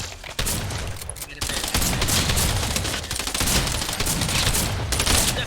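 Rapid gunfire in a Fortnite gunfight, loud bursts of shots crackling in quick succession with a few brief pauses, with no talking.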